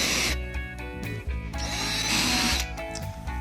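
A small metal drill bit pre-drills screw holes in wood for interior walls of a lightweight house on wheels, sounding as several close, loud whining bursts that start and stop in quick succession.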